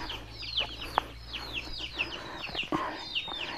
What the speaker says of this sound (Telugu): కొన్ని పెద్ద కోళ్ళు ఉన్నాయి